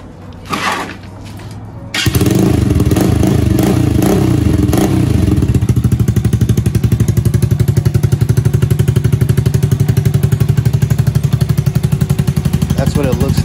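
A motorcycle with an aftermarket exhaust starts after some clatter and settles into a loud, rapid, throaty idle with a deep rumbling exhaust pop, close by.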